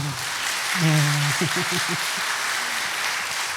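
An audience applauds at a church gospel culture festival, a steady wash of clapping throughout, with a brief voice sounding through it early on.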